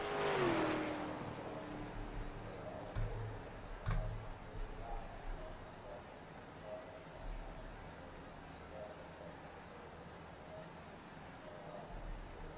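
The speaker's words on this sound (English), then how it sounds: "Here come the cars back around." ARCA race cars lapping Iowa Speedway in a sim racing video game under caution, engines droning and passing at moderate distance, one louder sweep early on, while a commentator talks over the steady background.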